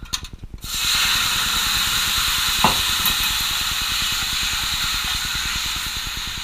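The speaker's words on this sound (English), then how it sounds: "So the pan's already hot, so it's probably going to sizzle." After a brief quiet start, tomatoes hit a hot pan and a loud, steady sizzle takes over, a hissing crackle with fine rapid popping underneath.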